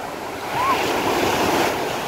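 Sea waves washing onto Kastro Beach on Skiathos, a steady, close surf roar with light wind rumble that swells slightly midway and holds throughout.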